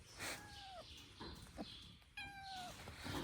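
A kitten on a Nebraska farm during a week of subzero cold gives two drawn-out, rising-and-falling meows. The cries are close but faint, with soft background noise between them.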